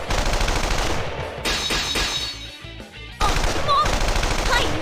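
Heavy artillery and rapid machine-gun fire from the fighting game Persona 4 Arena Ultimax, a loud, dense barrage that dips briefly before surging back.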